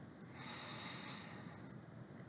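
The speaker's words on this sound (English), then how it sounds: "Breathing in" A person draws in a slow, steady breath during a guided meditation in a quiet garden, heard close and alone without any talking.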